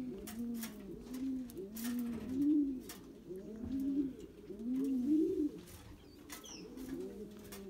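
Racing pigeons at a home loft coo in repeated rolling phrases, several birds overlapping in a steady, close chorus with faint background noise and no talk.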